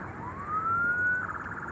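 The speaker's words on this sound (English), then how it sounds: "Coming through right here, the sirens" An emergency vehicle siren at an airport rises in a single smooth upward sweep, moderately loud over a low background rumble.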